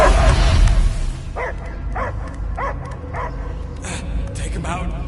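A dog in the Guardians of the Galaxy video game gives a run of rhythmic barks and yips, about six in a row, over a rumbling game soundtrack with a voice at the start.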